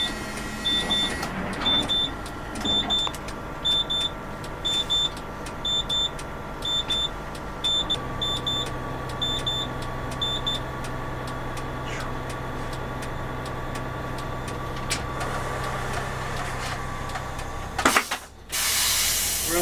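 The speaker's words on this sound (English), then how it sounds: "We're going to check our wipers and washers to make sure they operate properly." Windshield wipers and washers run on a Prevost motor coach with the engine idling. A steady ticking pulse goes with the swishing and spraying, the engine hums under it throughout, and a loud hiss of air comes at the end.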